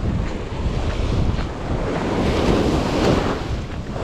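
Ocean surf washes onto a pink sand beach in a steady, loud roar, with waves swelling and receding under heavy wind buffeting, close by and without speech.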